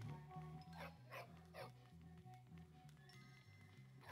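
Dog in the video game Bully makes repeated short barks and yips over a looping rhythmic game music bed, fairly quiet.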